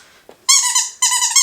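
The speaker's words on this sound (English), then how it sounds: "Oh my goodness, that is a loud dog toy." A squeaky donut-shaped dog toy is squeezed twice, giving two loud, high-pitched honking squeaks, each lasting about half a second, very close up.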